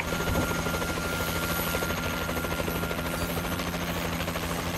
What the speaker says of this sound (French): Warbird allié dans les airs.